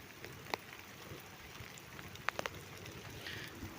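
Rain falling outdoors in Karachi on a day when snow is also coming down, a faint, steady patter with a few sharper drops standing out and no voices.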